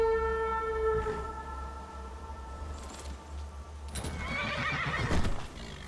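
A horse in the video game Skyrim gives a long, descending whinny, followed by snorting and shuffling hooves, moderately loud and close over a low game ambience.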